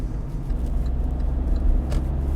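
A 2019 Kia Picanto with a 1.0 engine drives along a road, heard from inside as a steady low rumble of engine and road noise with no talking.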